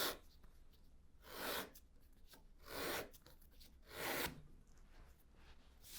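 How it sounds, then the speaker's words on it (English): A leather paring machine skives a leather strip, making three slow, rasping passes that rise and fade in a regular rhythm, fairly quiet and close. "I'm inserting with a movement backwards and then I run my machine"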